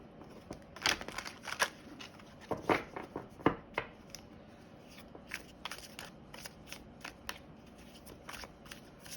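Psychedelic Space Tarot cards being shuffled by hand, faint close riffling and soft flicking bursts in an irregular rhythm, with quiet taps and slides between.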